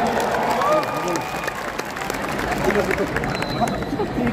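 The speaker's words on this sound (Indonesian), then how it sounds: "Tepuk tangan untuk jurnalis Indonesia." Applause from an audience in a large exhibition hall at Jakarta's JIExpo Kemayoran, a steady wash of clapping blended with crowd babble and voices throughout.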